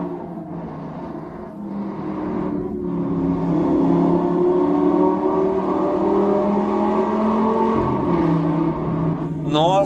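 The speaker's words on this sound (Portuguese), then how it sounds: "como você pode ouvir, estamos falando de um V10 de 5 litros" A 5-litre V10 in a Lamborghini Gallardo Superleggera with carbon-fibre lightweight parts revs loud and close, a sustained engine roar rising and holding across the clip, with a sharper burst near the end.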